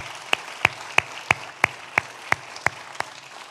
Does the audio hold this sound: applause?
yes